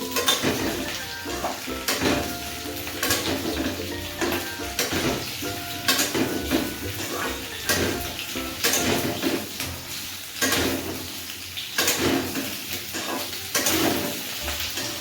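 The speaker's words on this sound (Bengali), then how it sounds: "আলু আর ঝিঙেটা দিয়ে একটু ভাজা ভাজা করে দেবো।" Potato and ridge gourd pieces fry in a hot pan, with a steady sizzle under repeated scraping and clinking from a spatula as they are stirred; no one speaks.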